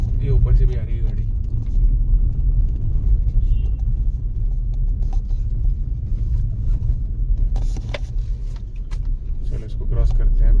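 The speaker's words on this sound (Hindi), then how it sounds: "ये ऊपर से भी आ रही है गाड़ी।" A car coming along a road toward a suspension bridge on an offroad day trip, a low steady engine and tyre rumble that swells and fades slightly, with scattered knocks and rattles.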